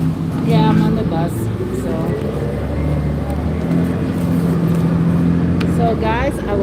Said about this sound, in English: Yeah, I'm on the bus.